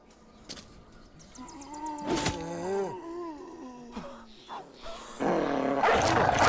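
A war dog in the video game Battle Brothers lets out a drawn-out, groaning bark and howl over a few seconds, mid-loud, followed by noisy game combat sounds.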